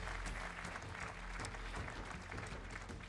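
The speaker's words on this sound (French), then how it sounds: "On les applaudit?" Dense, loud applause from an awards ceremony audience for property developers, continuous clapping filling the whole stretch without pause.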